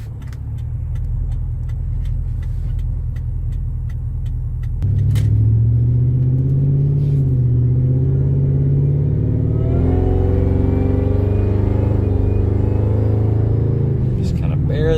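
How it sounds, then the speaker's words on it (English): A 2002 Ford F-150 Harley-Davidson Edition with a supercharged engine accelerates gently on the road, its loud cabin rumble stepping up and climbing in pitch as a faint supercharger whine rises, with someone talking over it. "Just kind of barely getting on it there, just so you can hear that supercharger a little bit."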